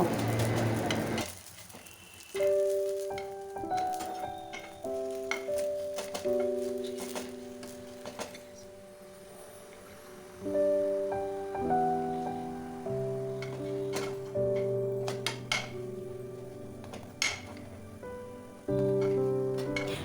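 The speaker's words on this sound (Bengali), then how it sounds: "এবার পরাঠাগুলি উল্টে পাল্টে লাল হওয়া পর্যন্ত ভালো করে ভেজে নেব" Layered lachha paratha fries in a pan over medium heat, giving a soft, steady sizzle with occasional ticks, heard beneath background music.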